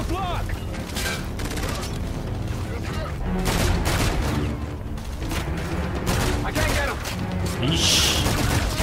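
Rapid gunfire from sci-fi weapons in the shooter Call of Duty: Infinite Warfare, dense bursts of shots and mechanical clatter repeating over a busy backdrop throughout, with a player talking over it.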